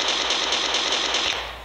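Rapid, steady burst of pistol gunfire from a shooter video game, loud and continuous with a dense mechanical rattle that tapers off at the end.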